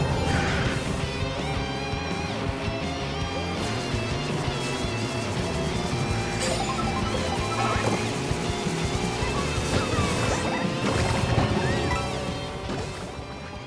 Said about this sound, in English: with me crashing into absolutely everything